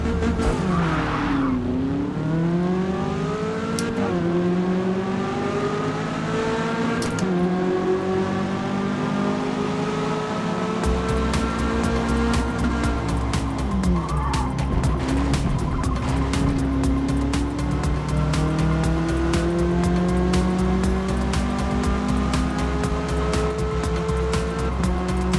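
Race cars in Forza Motorsport's E class on a track, with a loud engine droning continuously as it climbs and drops through gear changes, while tires squeal and rival cars roar nearby throughout.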